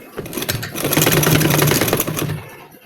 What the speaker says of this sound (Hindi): इसके ऊपर हम कंप्लीट सिलाई लगाएंगे